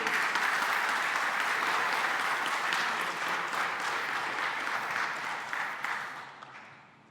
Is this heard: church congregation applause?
yes